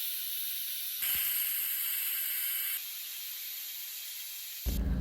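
Pressure cooker venting steam while cooking jackfruit seeds and mango, a steady broadband hiss with sharper bursts of jetting between about one and three seconds and a brief knock near the end, no voices.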